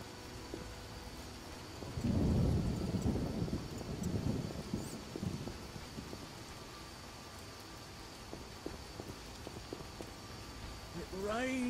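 Steady rain hisses through an outdoor scene in The Witcher while a low rumble of thunder swells early on and rolls away, then the downpour carries on evenly to the end.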